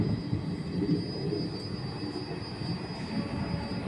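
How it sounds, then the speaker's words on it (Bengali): A special inspection train pulling away from Jayrambati station toward Bishnupur, heard from inside a saloon car as a continuous low rumble of wheels on rails with a faint high whine. "এই সোজা চলে যাচ্ছে ট্রেন এবং আমরা চলেছি একদম ট্রেনে করে বিষ্ণুপুরের উদ্দেশ্যে"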